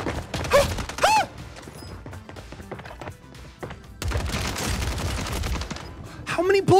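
Bursts of rapid gunfire in the online shooter Call of Duty Warzone, sharp clustered shots in several volleys near and loud, with a voice talking over the action.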